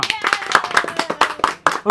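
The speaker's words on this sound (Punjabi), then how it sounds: "ਰੁਕਣੀਆਂ ਨਹੀਂ ਚਾਹੀਦੀਆਂ ਤਾੜੀਆਂ ਜਦ ਤੱਕ ਮੈਂ ਤੁਹਾਨੂੰ ਕਹਿੰਦਾ ਨਹੀਂ" A live audience breaks into rhythmic group clapping during a Punjabi comedy show, the claps landing in quick, loud bursts close to the listener while a voice talks over them.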